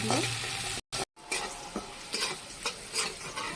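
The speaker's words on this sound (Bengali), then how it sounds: "পেঁয়াজটা ভাজা ভাজা হয়ে গেছে" Onions frying in oil hiss softly while a spoon scrapes and stirs through them in a loose rhythm, broken by a couple of short silent gaps.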